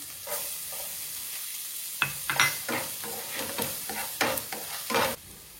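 Chopped onions, capsicum and garlic fry in a pan for white sauce pasta, a steady close sizzle broken by repeated scraping stirs of a spatula, no voices.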